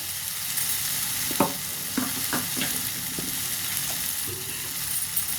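Chicken curry cooks in a pan with a steady low sizzle, broken by a few sharp scraping stir strokes from a spoon against the pan, with no talking.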